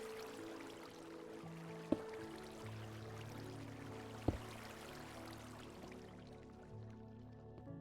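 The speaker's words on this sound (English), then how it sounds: "And there I go, just flooding water all over the place" Water flowing from freshly placed sources in Minecraft, a soft, steady trickle with a couple of sharp drip-like clicks, faint and unaccompanied.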